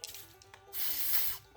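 Cutting-oil substitute sprayed from an aerosol can while working on a hard-to-turn-over Kohler Courage SV720 engine: a few faint ticks, then one close hiss of about two-thirds of a second.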